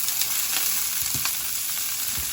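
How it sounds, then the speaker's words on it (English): Broccoli sautéing in a pan, a steady close sizzle of frying with a few soft stirring scrapes, no voices. "now I am sauteing my broccoli"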